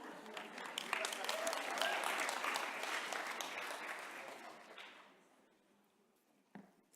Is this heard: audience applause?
yes